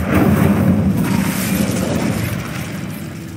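Incendio, the fire spell in Hogwarts Legacy, bursts out as a loud whooshing blast of flame that slowly fades over a few seconds.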